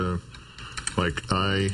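A computer keyboard is tapped with a single finger, a few sparse, separate keystrokes heard close, with someone talking over them.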